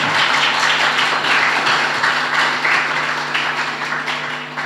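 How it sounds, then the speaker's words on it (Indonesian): Dense audience applause fills a talk-show style event on tolerance, a steady loud wash of many hands clapping that gradually fades toward the end. "Tepuk tangan pisan"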